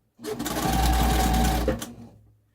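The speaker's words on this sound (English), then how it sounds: "I always like to back stitch on my corners" A sewing machine runs in one steady burst of back stitching along a corner of a zipper seam, a close, loud whirring hum that starts abruptly, holds for about a second and a half, then stops.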